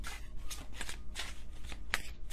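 Tarot cards shuffled by hand during a reading, a run of soft papery riffles and brushing flicks close by, steady with a few brighter snaps and no talk.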